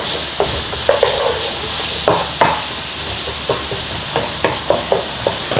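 Chopped onions fry in butter with a pinch of salt and black pepper, a steady close sizzle broken by repeated scraping stirs of a spoon against the pan.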